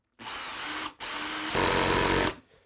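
A power drill driving screws whirs loudly in two bursts, a brief pause between them, the second run deepening in pitch as it bears down, then cuts off.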